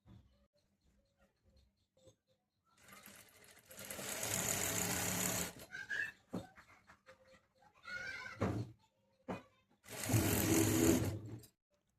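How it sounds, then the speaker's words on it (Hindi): A sewing machine stitches a salwar in two separate runs of rapid, even whirring, one about two seconds long and a shorter one later. Quiet handling and fabric rustle fill the gaps between them. "यहाँ से छोड़ के यहाँ से सिलाई लगाना स्टार्ट कर रहे हैं।"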